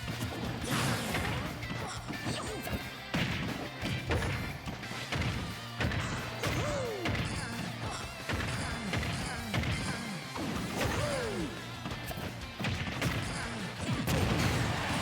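Heavy smash attacks land in a platform fighting video game, forward smashes among them, as repeated loud crashing hits over a dense, continuous mix of game music and effects.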